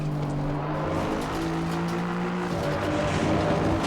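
Race car engine in Assetto Corsa Competizione at Circuit of the Americas, a loud sustained drone with the pitch stepping down as it downshifts, then steady engine noise without talk.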